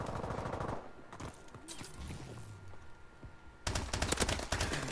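Bursts of rapid pistol gunfire in Call of Duty: Advanced Warfare crackle in the opening second and return loud and dense toward the end, with quieter clatter and thuds between them.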